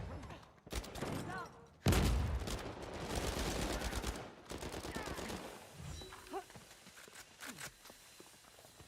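HS rifle fire in a shooter video game: scattered bursts of quick shots and sharp impacts mixed with footsteps and other game noise, moderately loud, rising and falling across the span.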